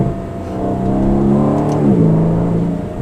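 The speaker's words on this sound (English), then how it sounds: "This V8 sounds really good. It's the AMG engine, Aston Martin's exhaust system." A 2019 Aston Martin DB11 with an AMG V8 and Aston Martin exhaust revs in Sport Plus mode, a loud, close, rising and falling engine note that swells and then drops in pitch, with no talk over it.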